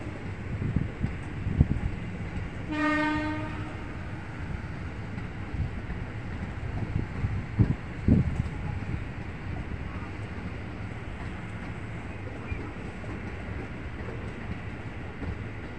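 A train rumbles into Jatinegara station with a low steady rolling drone, a short horn-like tone early on and occasional clanks, under some wind noise.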